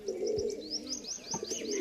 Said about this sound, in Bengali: এই দেখুন 5টা পায়রা ফ্লাই করছে